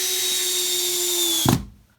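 A power drill drives a screw into a wooden plug patching a hole saw hole in a subfloor, a steady whining spin lasting about a second and a half that ends abruptly with a short thud, close and alone.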